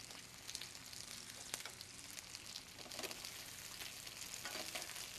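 Cipollini onions fry in a pan, giving a soft, continuous sizzle broken by occasional crackles and pops, fairly quiet with no voices.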